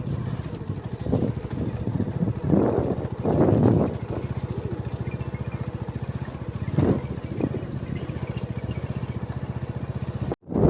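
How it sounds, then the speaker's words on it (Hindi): A tractor ploughing a field ahead for sowing wheat in a village, its steady engine drone running throughout with some wind buffeting on the microphone, ending abruptly. "सामने ट्रैक्टर से हल चलाए जा रहे हैं"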